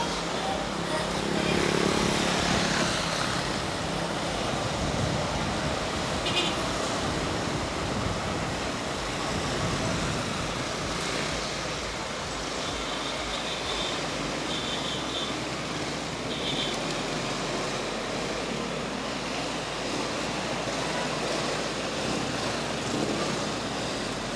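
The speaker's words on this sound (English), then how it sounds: "Traffic is finally dying down a little bit." Steady road traffic rushes past at a distance, a continuous broadband wash of passing vehicles with occasional engine swells, fairly faint and unbroken throughout.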